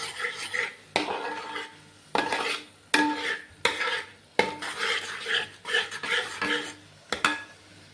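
A spoon scrapes and clatters around a pan of thickening medicinal lehyam, a Kerala herbal paste for skin and health with first-pressed coconut milk, in quick repeated strokes about once a second, close and fairly loud with no talking.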